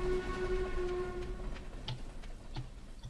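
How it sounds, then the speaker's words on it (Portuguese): A departing train in the farming video game Stardew Valley, its steady whistle tone fading under a low rolling rumble, with a few soft clicks near the end. "E foi-se embora o trem."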